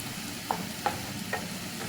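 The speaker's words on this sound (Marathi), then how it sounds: "आपलं लाल तिखटही छान व्यवस्थित परतून झालं आहे बारीक गॅसवरतीच ठेवायचं त्याला" Soybean masala with red chili powder sautéing in a pan over a low flame, with a soft continuous sizzle and three light stirring scrapes spaced about every half second, no voices.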